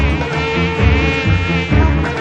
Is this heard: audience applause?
no